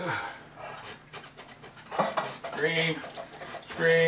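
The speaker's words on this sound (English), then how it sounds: "I don't know if you hear the dog in the background." A dog pants in the background, quick breathy huffs running beneath a person talking and clinking kitchen noises.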